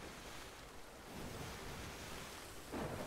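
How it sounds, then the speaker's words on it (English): Ship ploughing through rough storm waves in Sea of Thieves, a continuous roaring ocean wash with a louder surging splash near the end, no voices. "cutting through the waves like this is going to be a problem"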